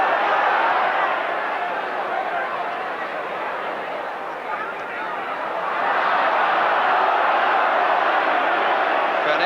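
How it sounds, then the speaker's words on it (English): A large football crowd at a First Division match between Queen's Park Rangers and Manchester United lets out a broad, sustained roar of displeasure that dips slightly midway and then swells again. "And the crowd unhappy that the ball was played backwards."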